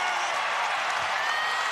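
A basketball arena crowd of 7,801 stands and applauds near the end of a game, a steady wash of clapping and crowd noise with an announcer talking over it.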